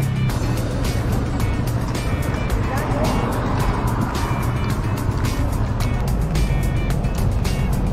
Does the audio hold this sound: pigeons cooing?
no